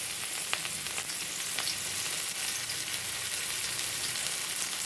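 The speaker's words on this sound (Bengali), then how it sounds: "এরপর একে একে সবজিগুলো ভেজে নেওয়া হবে। প্রথমে দেওয়া হচ্ছে গাজর।" Carrots fry in white oil in a kadai for mixed fried rice, giving a steady, close, even sizzle with a few faint clicks from stirring throughout.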